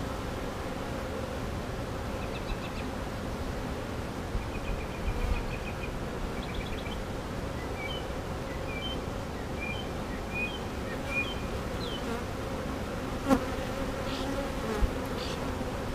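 Honey bees buzz around open hive frames during a beekeeping inspection, a dense steady drone of many insects close by, with occasional louder individual bees passing near and faint birdsong behind.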